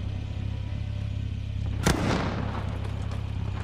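A single sharp gunshot burst from Call of Duty: Modern Warfare rings out once midway, loud against a steady low engine-like drone that runs throughout.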